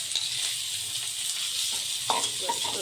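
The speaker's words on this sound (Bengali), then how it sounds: "এবার দেব সবজিগুলো ধুয়ে রাখা, সবজিগুলো দিয়ে দিলাম।" Rinsed vegetables tipped into hot oil with five-spice tempering for a sour dhyaras dish, giving a steady close frying sizzle with a few clattering stirs near the end.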